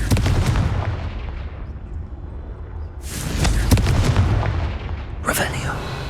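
A Confringo blasting spell explodes in Hogwarts Legacy: loud booming blasts, one long rumbling burst at the start and two sharp bangs later, with a voice briefly heard between.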